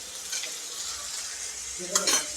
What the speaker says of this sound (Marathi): कांदे आपल्याला छान लालसर होईपर्यंत परतून घ्यायचे